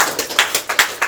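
Hand claps at a wedding reception: about six sharp, evenly spaced claps over a second, close and moderately loud, with no other sound around them.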